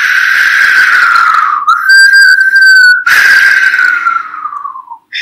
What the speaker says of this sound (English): The wind blew, and now we can whistle.